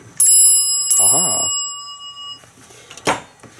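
An elevator alarm bell in a museum collection rings loudly in two short bursts with a bright metallic tone, then fades, followed by a brief exclamation and a thud.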